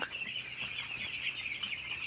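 A faint, steady murmur of about 520 broiler chickens clucking and chirping together on a poultry farm in winter, continuous and distant, with no voices.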